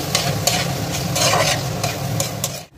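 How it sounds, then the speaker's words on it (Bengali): Mushrooms and masala, cooked for a matar mushroom masala curry, are stirred and fried together in a pan: loud close sizzling with rhythmic scraping strokes of a spatula every half second or so, ending abruptly. "এবার মাশরুম আর মশলাটা ভালোভাবে একসাথে আমি কিছুক্ষণ এইভাবে নেড়ে চেড়ে কষিয়ে নেব"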